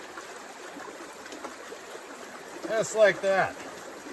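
Water splashed over a silicone gold sluice mat after rocks are cleared from the screen, a brief close wash under a man's speech, which dominates the end.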